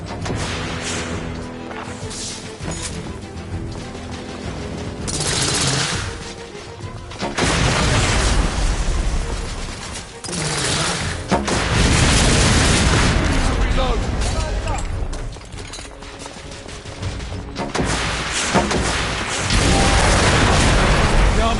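Heavy thermite blasts and booming impacts in The Order 1886 alternate with stretches of gunfire, loud and close, under occasional voices.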